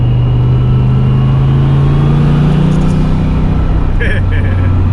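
A car fitted with a 500HP T5 manual transmission drives past loudly, its engine droning steadily and rising through the gears with a continuous low rumble from start to finish.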